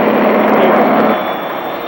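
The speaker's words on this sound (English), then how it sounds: "advance the throttle to ignition" A 1968 aircraft engine roars loud and close as it catches on ignition with the throttle advanced, a dense steady blast that eases slightly toward the end.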